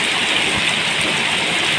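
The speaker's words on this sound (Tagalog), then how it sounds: "Hanggang ngayon ay wala pa rin tigil ang ulan, malakas pa rin guys." Heavy rain with wind pours down during a flood, a dense, steady roar of downpour that stays loud and unbroken throughout.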